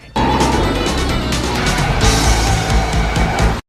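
Car chase scene from the film The Wizard: roaring engines, skidding tires and crashing impacts fill the whole stretch loudly and continuously, with a heavier burst of noise about two seconds in.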